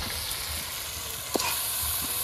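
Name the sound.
meat added to biryani masala sizzling in pan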